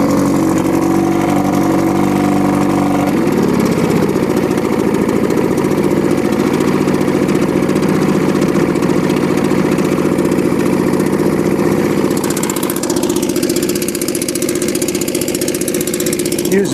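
Mercury Mark 10 outboard motor running in a water bucket, its loud steady engine drone close up and continuous, with a shift in pitch a few seconds in and a change in tone near the end.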